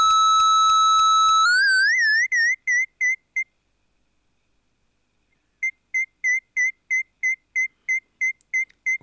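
DIY vactrol Wien-bridge oscillator with distortion: a steady pure tone that bends upward into a warbling series of rapid chirping beeps, stops into near silence, then resumes with regular pulsing chirps, close and clean.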